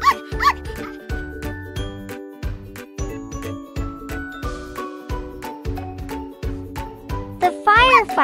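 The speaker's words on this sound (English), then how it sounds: "We need to save the puppy." A cartoon puppy yips and barks in a children's firefighter-themed show, a quick run of evenly spaced barks over light music and jingling.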